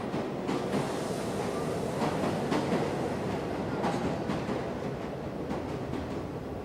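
A New York subway train runs with a continuous rumble and rhythmic clickety-clack of wheels on the rails, steady and moderately loud, with no voices.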